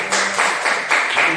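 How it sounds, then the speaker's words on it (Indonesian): An audience claps through a classroom lesson, a dense, steady patter of many hands with a few louder swells, close and continuous for the whole moment. "Ya, tepuk tangan dulu buat"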